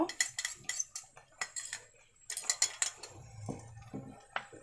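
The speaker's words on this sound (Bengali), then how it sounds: "এই গুলানো কর্ন ভিনেগারটা এই টমেটো সসে অল্প অল্প করে দিয়ে দেবো দিয়ে ভালো করে নেড়ে ছেড়ে দিব" Cutlery clinks and scrapes against a pot as a cornflour and vinegar mix is stirred into homemade tomato sauce, a run of sharp, irregular near taps and knocks with short pauses between them.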